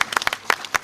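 A few scattered hand claps from an audience seated at a press conference, brief and uneven, with no steady roar of applause.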